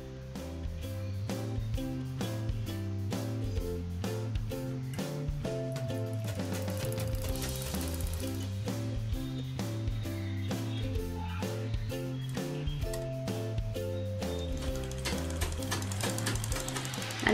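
A sewing machine stitches a blouse, running with a steady, loud mechanical whir and a fast, even rhythmic chatter that continues throughout with no talking.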